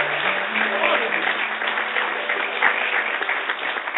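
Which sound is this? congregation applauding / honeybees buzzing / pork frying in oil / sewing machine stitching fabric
congregation applauding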